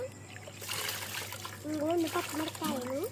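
Water from a bottle trickles and splashes into a bowl of curd while someone talks over it, a short, gurgling pour heard up close in a kitchen.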